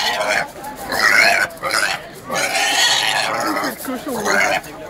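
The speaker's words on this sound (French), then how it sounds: "C'est le cochon, là." Pig grunting and oinking up close in a pen, loud rough squeals and snorts in bursts across the whole clip, mixed with people talking nearby.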